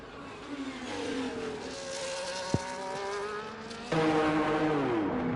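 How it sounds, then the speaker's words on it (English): Sim racing cars at the Singapore circuit whine past with rising and falling engine tones, several buzzing cars layered close together, one sharp click partway through and a louder car surging in near the end. "So we got many cars into the pit lane"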